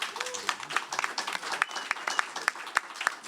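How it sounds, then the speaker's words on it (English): Audience at a jazz history panel event gives a round of applause for a panelist, with a modest scattering of distinct, crisp claps that grows more pronounced and rhythmic toward the end. "Give Ebony a round of applause."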